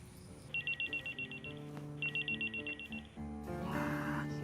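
A telephone rings close by in two bursts of fast warbling trills with a short pause between, followed by a brief rise in background noise.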